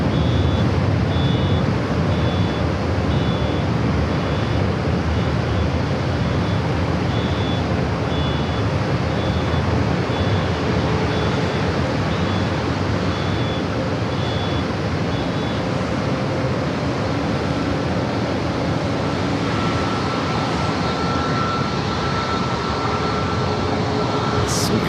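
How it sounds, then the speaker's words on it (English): A JetBlue Airbus A321 heading to Boston rolls down runway 27 at San Diego airport. Its jet engines give a steady, loud broadband roar that holds throughout, heard from an outdoor vantage point. "Getting this JetBlue A321 heading to Boston, rolling down runway 27."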